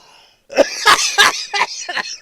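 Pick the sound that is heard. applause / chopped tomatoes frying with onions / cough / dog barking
cough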